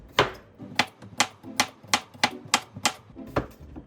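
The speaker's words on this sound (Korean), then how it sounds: "애호박도 채를 썰어 주시면 돼요" A knife cuts zucchini into thin strips on a cutting board, giving about ten crisp, evenly spaced knocks in a steady rhythm, close and clear with no talking.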